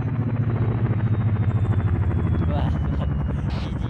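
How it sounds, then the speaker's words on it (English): Chinook helicopter in a combat simulation exercise approaching from the west, a steady pulsing rotor thud and low rumble that holds loud throughout while voices talk over it. "visual on Chinook coming in from the west"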